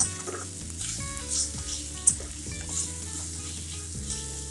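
Vegetables for Mumbai-style tawa pulao fry on a tawa, giving a soft, steady sizzle with faint stirring scrapes and small pops, close and fairly quiet, with no talking.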